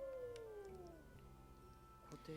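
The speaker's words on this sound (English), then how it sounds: "So, we're hearing the howl again." Howl in a video game, a drawn-out tonal wail gliding downward and fading, followed by a brief rising cry near the end, faint and distant under a low ambient background.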